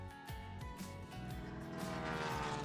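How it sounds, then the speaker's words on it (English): Droning propeller engine of a seaplane with a buzzing, pulsing hum, steady and moderately near, briefly rising in intensity. "Waterplanes are aircraft designed to take off and land on water using floats or a boat-shaped hull"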